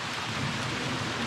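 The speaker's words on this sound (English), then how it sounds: "It's tipping it down with rain." Heavy rain pours down on a dark, stormy night as a dense, loud, unbroken roar of water.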